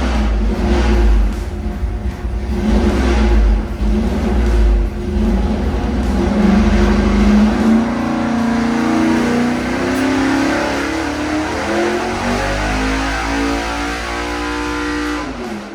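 Car engine revving hard on a 950 dyno, a loud continuous roar that climbs steadily in pitch through the pull, then drops and holds near the end, close and with no talking.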